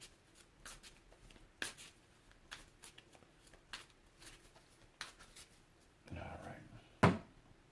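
Tarot cards are shuffled by hand in a quiet room, with a series of crisp riffling bursts at uneven intervals, close and fairly soft, separated by light handling noises.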